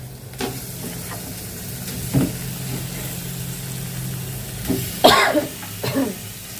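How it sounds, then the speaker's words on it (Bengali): Pieces of fish sautéing in well-cooked spice paste give a steady sizzle, broken by sharper stirring and scraping bursts near the start, midway and near the end, with a short throat-clearing or cough. "মাছগুলো দিয়ে দেব মাছগুলো দিয়ে একটু কষাবো"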